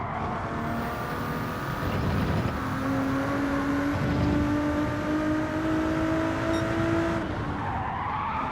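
A car slides and skids through a corner in Gran Turismo 7, with a long, steady tire squeal over loud engine noise that holds for several seconds, then drops away near the end.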